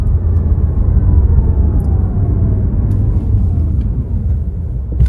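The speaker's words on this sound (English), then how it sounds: "it does sound just exactly like you'd expect electric motors to sound as a car accelerates" A continuous low electric whir rises in pitch as an Audi e-tron GT electric car accelerates, with a steady rumbling drone beneath and faint gliding tones.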